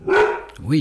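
A Dalmatian bitch gives a short, loud bark, and a second yelping bark follows right after, close by and indoors, with a voice briefly overlapping.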